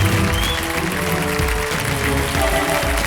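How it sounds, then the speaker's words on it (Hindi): A studio audience on the Shark Tank India set claps in a dense, sustained burst of applause, loud and continuous throughout with no talking. "जोरदार तालियों के साथ मैं चाहता हूं देवी सज्जनों उनका स्वागत किया जाए।"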